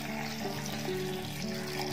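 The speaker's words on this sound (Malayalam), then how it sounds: "ഞാൻ കുറച്ച് തണുത്ത വെള്ളം കൂടി ഇതിലോട്ട് ഒഴിക്കുന്നുണ്ട്" Cold water pours into a grape juice mixture, a soft continuous splashing trickle, close and fairly quiet, lasting throughout without pause.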